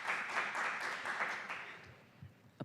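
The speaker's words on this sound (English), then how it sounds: "Applause warranted." A small group applauds at a governance and economic development committee meeting, giving brief, light clapping that fades out within about two seconds, then quiet.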